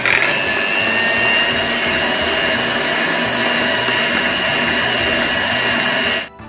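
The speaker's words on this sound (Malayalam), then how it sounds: "ബീറ്റ് ചെയ്യുമ്പോൾ ജസ്റ്റ് ആദ്യം ഈ ബട്ടർ ജസ്റ്റ് ഒന്ന് ഉടച്ച് കൊടുക്കാം കേട്ടോ." An electric hand mixer whirs steadily while beating butter with vanilla essence for a cake rusk batter, a loud constant motor drone that cuts off abruptly at the end.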